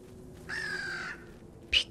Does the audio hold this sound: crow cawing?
yes